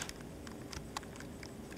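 Quiet, rapid clicks of a computer keyboard as a layer title is typed in Photoshop, irregular keystrokes close by with no talking.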